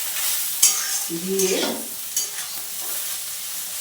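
Parboiled rice, boiled with cumin and bay leaf, stirred in a pan with white oil: a close, steady sizzle with stirring scrapes, and a brief word spoken over it.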